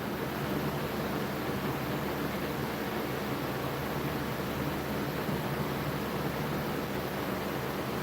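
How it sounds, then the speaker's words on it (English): A fan runs steadily, giving an even, broad whooshing hiss that stays constant and moderately quiet throughout with no talking. "Sorry about the fan"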